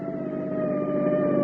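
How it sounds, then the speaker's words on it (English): Police siren in an old radio drama, a single steady wailing tone that swells slightly in loudness as if drawing nearer, with no voices over it. "Sounds like a siren."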